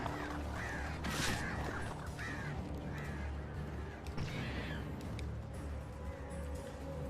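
Crows caw in Alan Wake Remastered, several harsh calls scattered across a dense, noisy game soundscape, moderately loud and repeating irregularly over a steady rumbling background.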